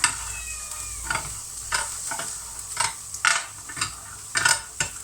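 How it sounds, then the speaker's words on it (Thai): Chilies dry-roasting in a pan with the other ingredients for a salted-fish chili paste: close spatula stirring and scraping in repeated short bursts over a faint, steady crackle, with no talking. "แล้วก็ใส่พริกไปเลย เอาง่าย ๆพริกก็คั่วไปเลย"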